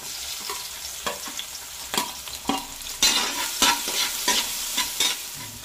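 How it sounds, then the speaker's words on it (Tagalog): Onion and ginger sautéing in a pan, close sizzling broken by sharp, irregular stirring scrapes and clatters that grow louder in the second half, with no talk. "Sunodin natin yung ating sibuyas. Ang ating luya."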